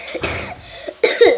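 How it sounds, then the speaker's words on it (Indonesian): Two short, sharp coughs close to the mic, separated by a brief pause. "Maaf ya, batuk"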